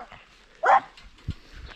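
A friendly, calm dog gives a single short bark near a rural grandmother's home with a vegetable garden, followed by faint thumps and quiet sounds.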